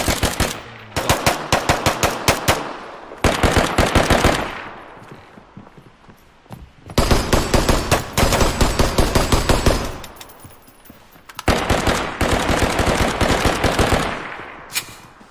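Bursts of rapid machine gun fire in a first-person shooter video game, loud, dense fully automatic volleys separated by short pauses, with no talk over them.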